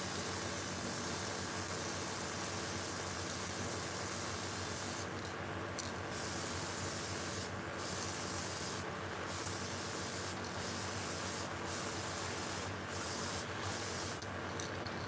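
White paint is airbrushed onto Spook-style fishing lure blanks, a steady hiss of spray with bursts of stronger spraying repeating in short pulses near the microphone.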